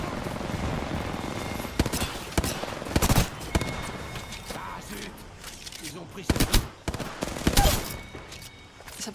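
Burst-fire weapon shots in Apex Legends, clipped three-round bursts cracking out at intervals amid game effects, with a voice talking over parts of the shooting.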